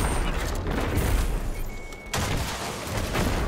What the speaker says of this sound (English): And then I'm going to rocket launch it.